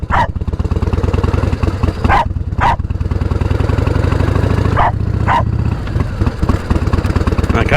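A dog barks in sharp, repeated bursts, one near the start, a pair around two seconds and another pair near five seconds, over the steady low rumble of an idling 1988 Harley-Davidson Heritage Softail with sidecar.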